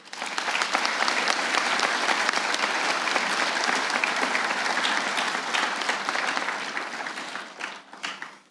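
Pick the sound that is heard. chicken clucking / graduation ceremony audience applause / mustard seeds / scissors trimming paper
graduation ceremony audience applause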